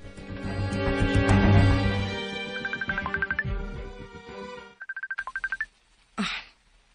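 A cellphone ringtone plays loudly up close as a bright melodic tune, then breaks into short, repeated beeping phrases, stops, and ends on a final brief burst.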